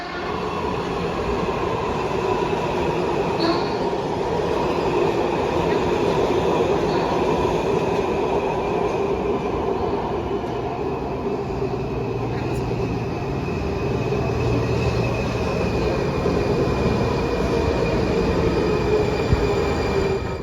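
A Washington DC Metro money train rolls past on the subway tracks, a loud continuous rumble with rhythmic wheel clatter and faint squeal that holds steady for about twenty seconds.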